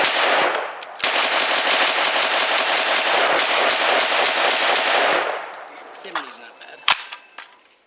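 An IWI Tavor SAR bullpup rifle fires a loud, rapid string of about twenty close shots over four seconds, then a few scattered single shots and clinks trail off as the firing stops.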